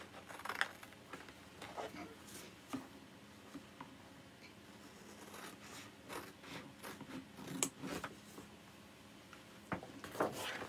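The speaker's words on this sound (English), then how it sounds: "So let me cut that one out." Scissors cut out a paper craft piece for a DIY fall door tag, making soft, close snipping and rustling sounds scattered unevenly over a quiet background, with no voices.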